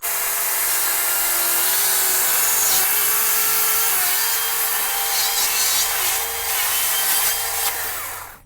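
A knife carves angled cuts into wood while shaping a ghost figure. A steady, close, dry scraping rasp runs almost without pause for several seconds, then cuts off at the end.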